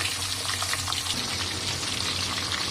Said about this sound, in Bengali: এই যে ভাজা হচ্ছে মাছটা, দেখুন।